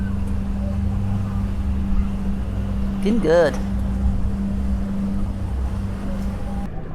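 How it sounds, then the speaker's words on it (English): A water taxi motors across open water with a steady engine drone and wash, joined by a brief rising whine as it passes close; a voice speaks briefly over the noise. "just whizzing round on the water taxi"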